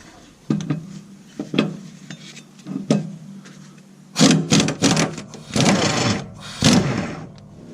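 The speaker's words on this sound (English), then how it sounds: "To take the blade off, you need a 24mm socket." A 24mm socket wrench working on the blade bolt under a Gravely mower deck, giving a run of close, sharp metallic clanks and clicks that start sparse and bunch into louder clusters toward the end, with no talking.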